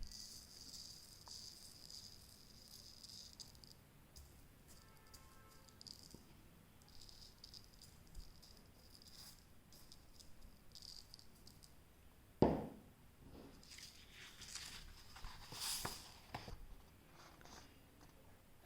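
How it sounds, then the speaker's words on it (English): Semolina poured over a sandpaper numeral for Montessori material, heard as a soft, faint grainy hiss and patter with scattered light rattles, including one sharper clatter midway, close and quiet. "Now let's pour some semolina over it."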